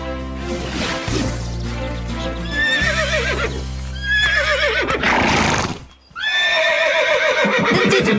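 A horse whinnies loudly several times in a western film, over a busy background, with hoof clops and rich musical tones around it, close and prominent.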